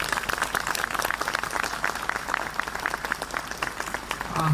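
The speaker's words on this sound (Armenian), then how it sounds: "առաջարկում եմ մի հատ մեր այսօրվա երթին ծափահարենք" A crowd at a march rally breaks into steady, dense applause, many hands clapping together continuously at close range, with a voice rising briefly near the end.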